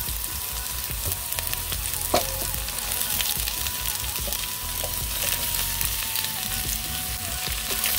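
Garlic, green onion and onion slices sizzle steadily in a hot pan, a dense continuous frying hiss close up with an occasional sharp pop and no talking.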